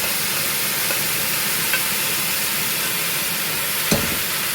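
Ingredients go into a sizzling tempering in a pan while making Rayalaseema bend kaya bajji, with a steady hissing fry, occasional stirring clicks and a sharper knock near the end, heard alone without talking.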